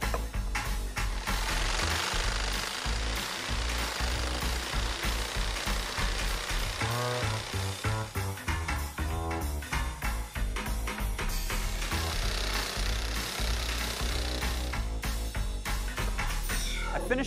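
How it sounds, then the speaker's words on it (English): Saber saw cutting a wooden wind turbine blade clamped to a table, a loud continuous rapid buzzing rattle of the reciprocating blade that runs throughout with small shifts in pitch. "I'm actually going to use my saber saw and just clamp it to the table, do half the cut"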